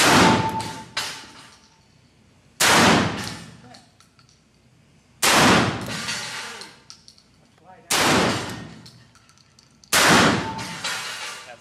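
Remington Versa Max tactical shotgun firing slugs, five loud, sharp blasts spaced a few seconds apart, each with a short ringing decay, outdoors at close range.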